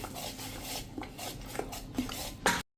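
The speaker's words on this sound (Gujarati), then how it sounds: "હવે આ બધું આપણે સરસ મિક્સ કરી લેશું." A utensil scrapes and taps around a bowl of dhokla batter with a few soft clinks, steady mixing strokes up close with no voices.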